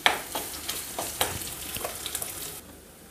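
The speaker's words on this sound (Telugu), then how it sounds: "గోంగూర ఉడుకుతుందండి." Gongura leaves sizzle in a hot pan under repeated stirring strokes, giving a steady frying hiss broken by soft scrapes and clatters close by, which fades quieter near the end.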